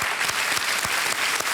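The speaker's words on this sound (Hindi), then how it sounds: "एक बार फिर तालियों के साथ इनका अभिनंदन।" Studio audience applause on the set of the Hindi quiz show Kaun Banega Crorepati, a steady, full wash of clapping from a crowd, loud and continuous throughout with no speech over it.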